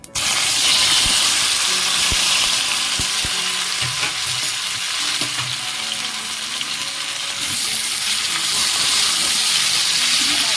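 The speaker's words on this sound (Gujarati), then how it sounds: "થોડીક વાર આને આપણે તેલમાં તળવા દઈએ" Boiled gunda fry in hot oil with mustard seeds, cumin and a pinch of asafoetida, a loud continuous close sizzle with a few sharp taps of a spoon near the start, and no voices.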